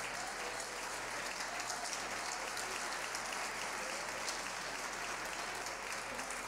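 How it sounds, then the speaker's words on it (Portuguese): A church congregation applauding at a Portuguese-language worship service, a steady, even wash of clapping that runs the whole time at a moderate, slightly distant level, with no voices standing out. "Isso, aplaude ao Senhor."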